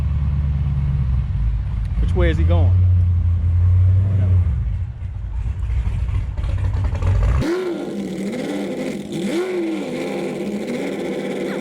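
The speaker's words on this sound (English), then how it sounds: "Let's check out this car riding past first." A car drives past in Schaumburg with a loud low rumble and revving that fades out partway through, while people talk nearby.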